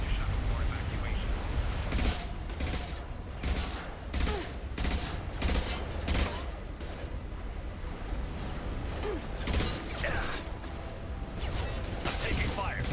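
Rapid bursts of gunfire from a firefight in Mass Effect 2, set in a sandstorm, with dense volleys and sharp reports repeating loudly throughout over a rumbling background, with game voices talking at moments.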